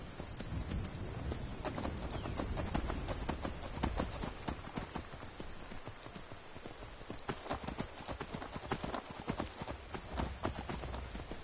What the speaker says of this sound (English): hop on the horse, and we're going for a little ride.